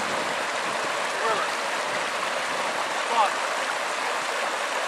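River current streaming steadily during gold prospecting with a river shovel, a broad continuous rush of moving water at even loudness throughout, with faint brief chirps over it.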